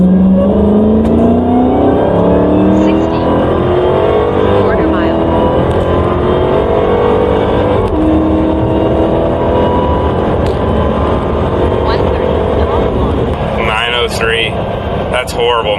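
A 2023 Dodge Challenger SRT Hellcat Widebody Jailbreak Edition launches from a stop in third gear. Its loud, continuous engine roar climbs steadily in pitch throughout the run and dominates the whole stretch, with no talk over it.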